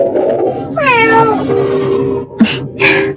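A small cat meows: one long, rising-and-falling meow is followed by two shorter, sharper calls. The cat is close and loud, and no one speaks.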